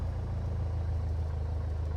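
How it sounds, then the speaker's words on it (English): A Lycoming aircraft piston engine idles in a simulated small plane, a steady low gurgling throb that runs continuously and fairly close, with no voices over it. "I love that gurgling sound of the Lycoming engine when it's at idle"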